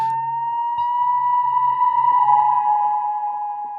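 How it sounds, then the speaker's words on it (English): A sustained, ringing electric guitar feedback tone from a Fracture Sounds sample library, close-miked for crunch, holds steady with slight pitch wavering, loud and alone, with a faint low hum underneath. "some Fracture Sounds feedback guitar set to the wild articulation, close mic'd to give us as much crunch as possible"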